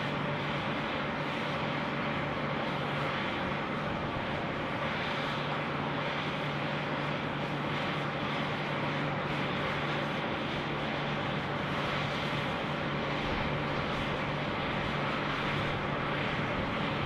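An aircraft takes off from Sydney Airport runway 34 left, a loud, constant broadband engine roar with a steady low drone, unbroken for the whole stretch.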